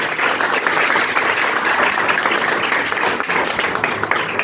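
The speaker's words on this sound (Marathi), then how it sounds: "हा पबजी खेळतो म्हणाला म्हणलेला मुलगा आहे ना त्याच्यासाठी जोरात टाळ्या वाजवायच्या" A room full of students claps loudly together, a dense, continuous burst of applause that stays strong for a few seconds with no clear voices over it.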